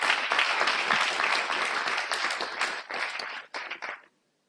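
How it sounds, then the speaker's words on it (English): Audience applause at a gathering in Igboland: dense, sustained clapping from a sizable crowd that holds steady, then thins into scattered claps before stopping abruptly near the end. "Can we give him another round of applause?"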